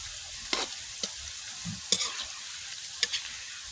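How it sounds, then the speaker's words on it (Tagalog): Banana chips frying on a gas stove until golden brown, a soft steady sizzle broken by several sharp scraping clacks of a utensil stirring the pan, close and without voices. "Luto ng aking banana chips."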